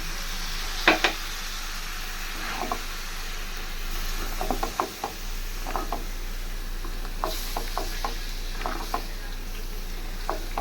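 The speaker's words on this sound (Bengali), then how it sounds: "সব কিছু দিয়ে আমি একটু মশলাটা কষাই নিতেছি" Spice paste of ginger, garlic, turmeric, chili, cumin powder and garam masala fries in a karahi, a steady soft sizzle broken by scattered scraping clicks of stirring, fairly faint with no talk.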